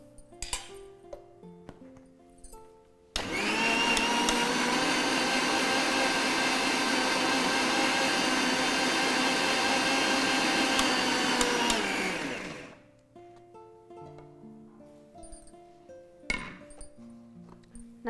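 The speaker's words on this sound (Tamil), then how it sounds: "இன்னும் லைட்டாக இன்னும் கொஞ்சம் அரைச்சிக்கலாம்." A mixer grinder whirs loudly for about ten seconds as it grinds ingredients for cheese roll, then winds down and stops, with quiet music and light clinks before and after.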